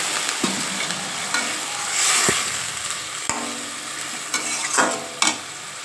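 Vegetables sautéed and stirred in a pan while mustard greens cook, a steady sizzle broken by several sharp scrapes of the spoon against the pan, close and moderately loud with no talking.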